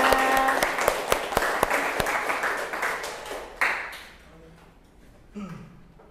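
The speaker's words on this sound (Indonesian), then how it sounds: "Tepuk tangan dong untuk kita semua" Students applaud at the end of a class group presentation on religion, a burst of clapping with a few sharp claps standing out that thins and fades away midway, followed by brief low voices and a small bump of noise.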